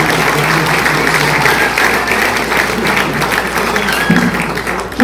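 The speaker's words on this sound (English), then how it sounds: "give them another round of applause" Sustained audience applause at a stage storytelling performance, a dense and steady wash of clapping from a crowd that lasts the full five seconds with no talk over it.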